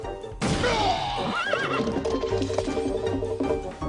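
A horse in a crowded stable whinnies loudly and at length, its wavering neigh rising and falling over a busy clatter of trampling hooves.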